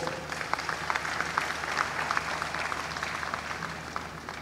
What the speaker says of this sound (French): Et je voudrais qu'on les applaudisse très fort.